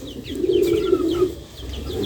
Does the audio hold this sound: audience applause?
no